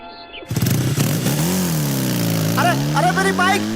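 A motorcycle engine starts up and revs, its pitch rising and falling as the bike pulls away, loud and close, with a voice calling out over it.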